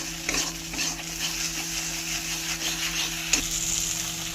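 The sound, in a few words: frying and stirring masala for Kashmiri aloo dum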